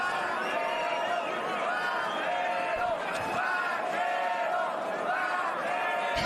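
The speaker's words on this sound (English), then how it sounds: "the crowd here is chanting Vaquero Navarrete" Boxing crowd at a Shakur Stevenson vs Edwin De Los Santos fight chanting a fighter's name, a rhythmic swelling arena chant that runs steadily throughout, with a commentator talking over it.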